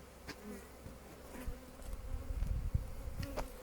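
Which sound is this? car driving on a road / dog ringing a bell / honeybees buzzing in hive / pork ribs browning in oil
honeybees buzzing in hive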